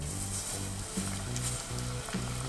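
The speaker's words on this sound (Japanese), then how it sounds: "じゃあ揚げていきます。 いい音いい音。 これぐらいの音がいいね。" Battered fish deep-frying in hot oil gives a dense, steady sizzle and bubbling hiss, close and continuous, with faint low clunks underneath.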